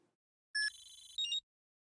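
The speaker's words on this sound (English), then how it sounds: "Your phone is going off the hook again" A short electronic phone ring in the spy game Spycraft: The Great Game, two quick bright tonal trills in near silence, clean and moderately quiet.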